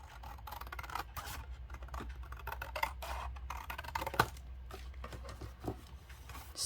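Scissors snip through paper while a box is being cut out, giving a run of short, irregular crisp cuts and rustles close by, with no talking.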